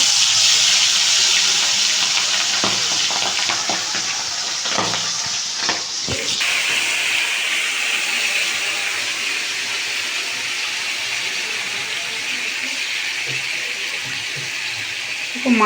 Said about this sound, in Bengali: প্রথমে তো আমি মাছগুলো একে একে করে দিয়ে দেবো প্রথমে তেলের মধ্যে